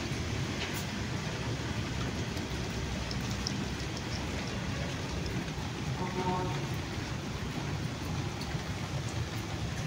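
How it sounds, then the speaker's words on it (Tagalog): Steady, dense rain pours down continuously, a broad hiss with scattered drip and patter, unbroken for the whole stretch. "Grabing ulan ba?"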